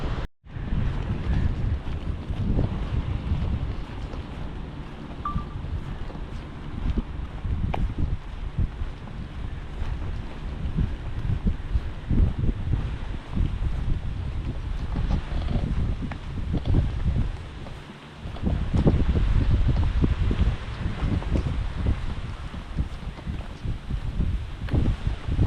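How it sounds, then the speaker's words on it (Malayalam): Seaside wind blows steadily ahead of rain, rushing across the microphone with surging gusts for about 25 seconds, loud and close, with no voices. "കാറ്റ് വീശി തുടങ്ങി, ഇപ്പം മിക്കവാറും പെയ്യും."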